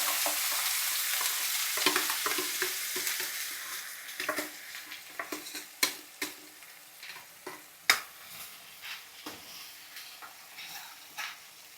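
Cashew paste frying with spices in a pan for a chicken curry, a soft sizzle at first giving way to repeated scraping and clicking stirring strokes, close and moderately quiet, with no talking.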